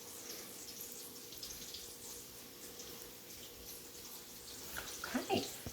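Tap water runs at a kitchen sink as hands are washed after making homemade biscuits, a faint steady flow that swells into louder splashing near the end.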